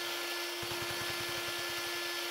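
A power drill bores into a bank vault in a video game, a fast rhythmic grinding pulse over a constant mechanical whine, steady and close.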